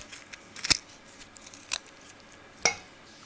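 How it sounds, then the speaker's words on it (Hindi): Knife slicing through the centre of a lemon, a few sharp, close crisp cuts and taps against a board, spaced apart with quiet between them. "लीमू को हम कट लगाएंगे सेंटर में से।"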